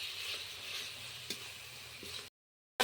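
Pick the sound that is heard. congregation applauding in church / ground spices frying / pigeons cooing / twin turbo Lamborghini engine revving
ground spices frying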